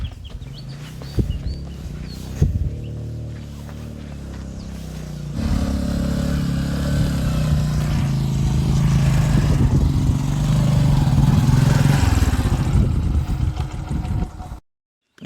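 A motorcycle engine labours steadily and close by as the bike climbs a steep, rough hill road toward Hulangala in Matale, Sri Lanka, its drone building louder toward the end.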